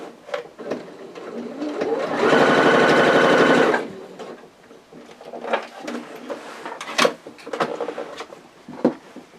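Domestic sewing machine stitching a seam on fabric for a tote bag, a loud steady whirring burst of about a second and a half, framed by soft handling clatter and quiet rustling.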